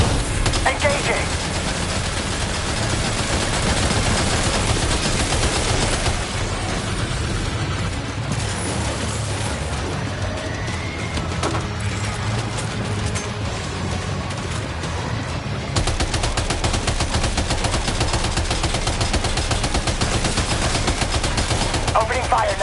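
Sustained gunfire in the video game Death Stranding 2, dense rattling bursts running nearly continuously and loud, dipping slightly in the middle stretch before resuming at full intensity; a voice talks at points.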